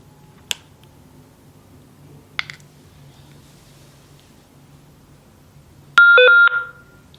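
A Hytera HP785 two-way radio powers on with a short, loud electronic chime of stepped beeps near the end, after a quiet stretch with a few faint button clicks.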